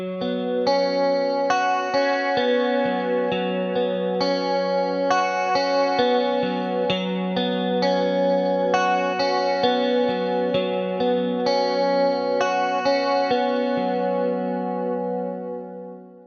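An electric guitar played through a shimmery chorus effect on a Line 6 Helix rings out alone, strummed chords sustaining with a wide, wavering shimmer for about fifteen seconds before fading.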